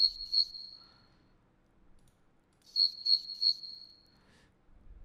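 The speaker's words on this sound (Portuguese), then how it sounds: "Vamos agora para os grilos." Crickets chirp in short, quiet bursts: one brief trill, a pause, then a cluster of three quick chirps against near silence.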